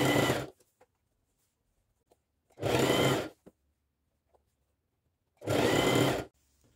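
Sewing machine stitching a triangle-patterned border onto a dish towel, in three loud, steady runs of about half a second to a second each, separated by quiet pauses with faint handling clicks.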